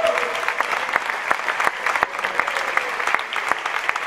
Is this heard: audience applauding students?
yes